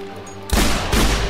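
Rapid gunfire from a Minecraft weapon fired underwater, a sudden dense burst of shots cutting in after a quiet moment and rattling loudly to the end.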